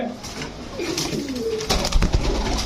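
Fancy-breed pigeons coo at a busy pigeon market, with several low throaty calls rising and falling close by over background clatter and a sharp knock or two near the end.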